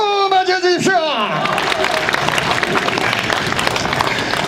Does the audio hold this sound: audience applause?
yes